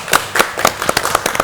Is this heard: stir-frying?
no